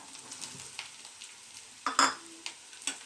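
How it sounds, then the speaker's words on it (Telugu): Diced potatoes go into a pan of frying onions for a home-style cauliflower vegetable curry, bringing a soft sizzle under light stirring and scraping, with a sharper clink of a spoon against the pan midway. "ఇప్పుడు బంగాళదుంపలు వేసుకోవాలి."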